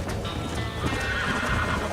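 A horse in the video game Red Dead Redemption whinnies loudly and close while its hooves clatter underneath, a dense burst that lasts about two seconds.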